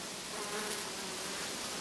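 A dense, steady buzzing of many honey bees, mostly worker bees, fills the air, a continuous droning hum with no voices.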